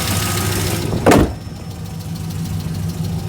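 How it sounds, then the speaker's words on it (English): A Trailblazer SS idling with an exhaust leak from a snapped bracket, a steady low rumbling idle with one brief louder puff partway through, close and uninterrupted. "I have a crazy ass exhaust leak from a bracket that snapped off under here"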